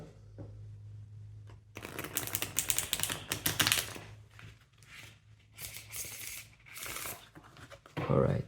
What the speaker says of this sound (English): I'm going to shuffle like this in order to refresh the energy of the cards.